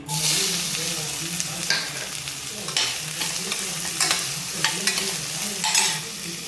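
Onions drop into hot oil in a pan for a simple prawn gravy. A loud, close sizzle flares at first and holds steady, broken by repeated spatula stirs and scrapes, with no voices.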